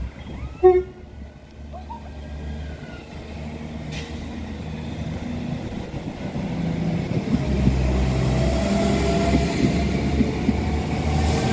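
A train departing Whiteabbey station for Whitehead rumbles steadily as it pulls away, its low rolling noise building gradually, with a brief short toot and squeal near the start.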